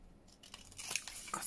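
Scissors cut around the bottom of a paper bookmark in a few quiet, crisp snipping and rustling strokes that grow slightly louder toward the end, with no voice.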